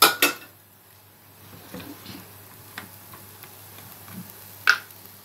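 A metal cooking pot handled on the stove gives a couple of sharp clanks at the start, then scattered light taps and a final ringing knock, close and sparse, with no talking.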